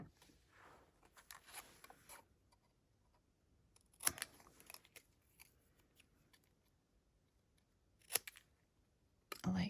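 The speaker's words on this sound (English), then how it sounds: "And I'll snip this." Scissors snip a small half-inch scrap of red cardstock, with a few sharp isolated cuts spaced seconds apart over quiet rustling, close and fairly soft.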